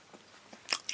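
Someone takes a bite of a dry Pop-Tart close up, a soft crunch followed by a second small crisp bite in a quiet setting.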